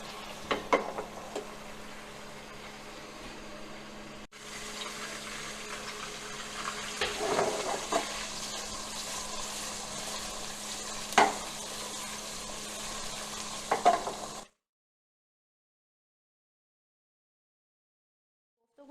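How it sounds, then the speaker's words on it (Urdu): Chicken meatballs frying in a pot that is shaken now and then, giving a soft steady sizzle with a few louder bursts of shaking and stirring, then stopping abruptly into silence near the end. "کوفتوں کو فرائی کرتے ہوئے تھوڑا سا پیشنس رکھیں"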